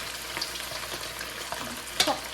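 Food sizzles steadily in a hot pan, with a constant crackling hiss and a few sharper pops, close and moderately loud.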